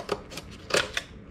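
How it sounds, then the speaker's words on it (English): Scissors trim a molded piece for a custom gauge pod for a Subaru SF5 and GC8, giving four or five quick, crisp snips close by in an otherwise quiet room. "Just using the scissors just to trim up"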